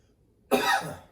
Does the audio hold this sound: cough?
yes